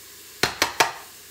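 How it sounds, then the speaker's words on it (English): Garlic being stirred in a cooking pot, three quick scraping clinks of a utensil against the pot at an even rhythm over a low background hiss, with no talking. "I'm just gonna stir this again"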